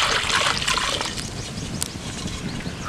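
Water boiled with nannari root essence pours and splashes steadily into a pot for a few seconds, close and fairly loud, with no talking.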